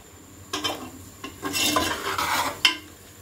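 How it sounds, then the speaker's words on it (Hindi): Garlic cloves frying with golden onions in a pan, stirred in bursts of scraping and clattering spoon strokes over a faint sizzle, several separate stirs and a sharp knock near the end. "और इनको भी हम प्याज के साथ 1 से 2 मिनट फ्राई कर लेंगे"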